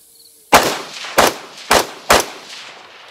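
Four loud, sharp gunshots from a Radical Firearms .223 Wylde AR rifle shooting Tula steel case Russian ammo, spaced about half a second apart, each with a short decaying echo, and no voices.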